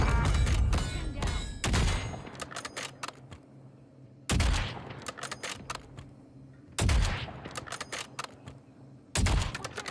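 Sniper rifle fire in the video game Warzone: five loud, sharp shots spaced a couple of seconds apart, each with a long, fading tail and a quieter rumble between them.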